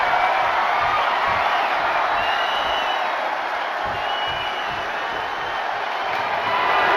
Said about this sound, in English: And Cena is firing up the crowd here.